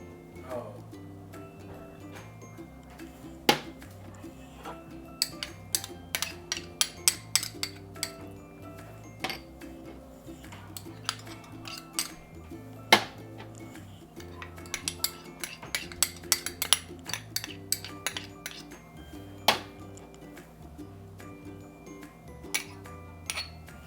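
Ingredients for lemongrass chicken being mixed in a container, with sharp clinks and taps of utensil against the container scattered irregularly over steady quiet background music.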